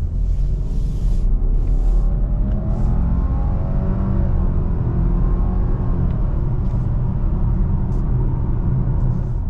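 Lowered 2023 Subaru Outback Onyx XT turbo wagon with a CVT accelerating hard, a loud, sustained engine roar heard close, its pitch climbing steadily as the car pulls.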